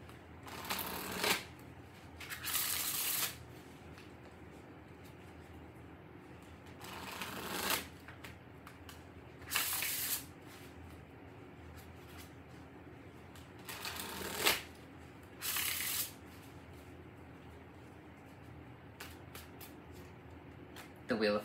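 A deck of tarot cards being shuffled in several short riffling bursts, separated by pauses, close to the mic over a quiet background.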